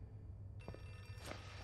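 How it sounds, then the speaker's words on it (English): A telephone in the video game Outlast 2 rings in short bright bursts over a low hum, faint and somewhat distant, with no voices. "Ne, pa di zvoni taj telefon?"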